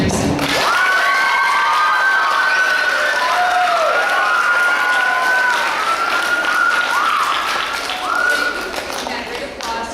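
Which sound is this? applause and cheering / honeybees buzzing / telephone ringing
applause and cheering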